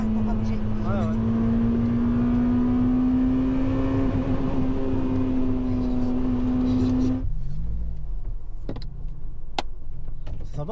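Honda Civic Type R EP3 30th edition driven on the road, a loud sustained engine tone holding steady under acceleration, then cutting off abruptly, leaving a quieter cabin rumble with a few clicks.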